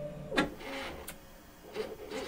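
A homemade pick-and-place machine with a hollow-core stepper motor and gas line places parts on a circuit board, giving short motor whirs and clicks in bursts, fairly faint and with no talk.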